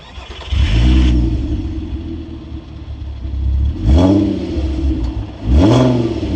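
An Audi TT MK1 with the 3.2 V6 is started with the key and fires into loud, throaty revs, followed by two more sharp blips of the throttle that rise and fall, heard up close.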